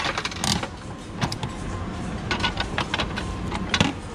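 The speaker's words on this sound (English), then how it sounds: "So let's see what we get out of a Kirby machine" A Kirby capsule toy machine on a busy Taipei street turns and dispenses a prize, making a rapid run of close plastic clicks and rattles over steady crowd and street noise.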